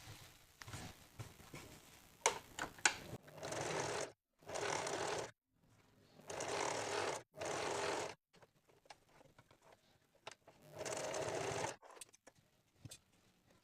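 A sewing machine stitches the folded tucks on a blouse front panel in several short, evenly spaced bursts, with quieter fabric handling between and no speech.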